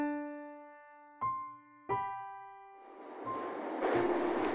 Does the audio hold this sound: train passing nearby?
yes